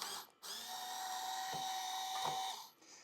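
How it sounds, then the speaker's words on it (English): A Ryobi 4-volt cordless screwdriver drives a bolt on a motorcycle LED light install, a single steady high whine lasting about two seconds with a brief start blip, close and clear. "I love these little Ryobi 4-volt guns."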